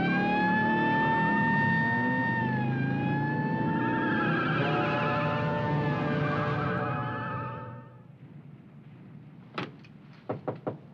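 A loud siren wails continuously, its pitch sliding up and down, then cuts off, followed by a few sharp knocks or clicks.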